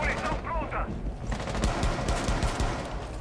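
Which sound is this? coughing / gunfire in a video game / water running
gunfire in a video game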